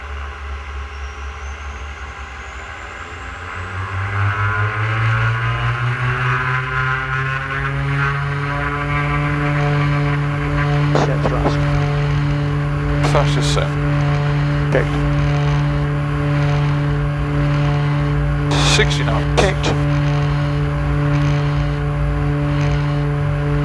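Turbine engines on a Grumman Mallard amphibian spool up to a loud, steady drone with a rising whine, heard close from inside the aircraft at takeoff, with brief crackles of radio or intercom over it.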